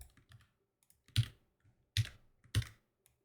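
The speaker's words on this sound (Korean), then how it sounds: "그리고 다음 코드를 입력합니다." Code typed on a computer keyboard: a few sharp, close keystrokes and clacks in irregular bursts, with quiet gaps between them and no speech.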